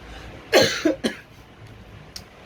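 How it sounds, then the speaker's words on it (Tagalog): Two or three close, sharp coughs in a quick cluster, followed by quiet with a faint click. "parang inuubo si teacher"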